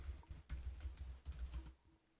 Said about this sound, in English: type in your computer password